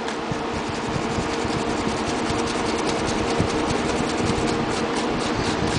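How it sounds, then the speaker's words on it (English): A wire brush scrubs an engine piston in steady, continuous rasping strokes, close and fairly loud, with no pauses and no talking. "I'm just gonna wire brush it a little."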